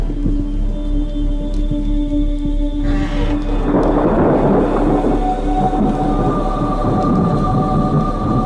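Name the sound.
thunderstorm during the night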